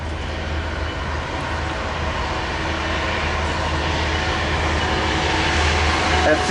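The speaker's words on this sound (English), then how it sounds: "Here is Metrolink 624 to Oceanside." Metrolink commuter train 624 bound for Oceanside passing at Commerce, a steady loud rumble and rolling rail noise that swells slightly toward the end, with a low engine drone underneath.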